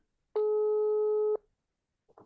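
A single steady telephone tone sounds for about a second, loud and clean, on a call line; after a pause, a brief faint voice-like murmur follows.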